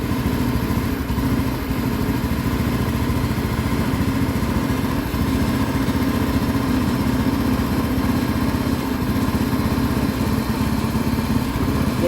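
A fuel-injected motorcycle engine idles steadily and evenly during idle speed adjustment, a constant mid-pitched hum at close range with no talk.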